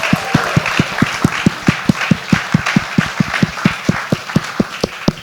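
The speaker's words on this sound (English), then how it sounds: "Everyone join me and give a round of applause for our amazing mayors" Applause from a forum audience honouring three city mayors in West Los Angeles, with a strong rhythmic clapping beat, loud steady claps in near-regular rhythm over a bed of crowd clapping throughout.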